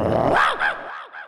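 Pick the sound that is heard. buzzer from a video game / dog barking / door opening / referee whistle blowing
dog barking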